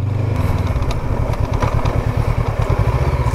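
A motorcycle engine revs steadily in low gear while climbing uphill, a loud, close, pulsing mid-pitched drone with rapid rhythmic firing throughout.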